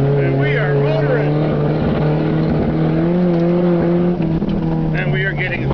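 Eagle Talon engine droning steadily with a strong low hum throughout a first test drive, loud and close, with engine pitch shifting slightly as it accelerates and people talking over it.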